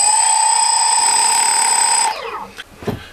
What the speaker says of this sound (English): We'll check motor 2, which should spin clockwise.